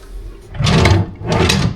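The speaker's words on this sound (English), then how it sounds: "I don't think there'll be anything in the drawers." A bedside drawer in a hotel room slides open, then shuts again a moment later: two close, loud wooden rumbles with no talk.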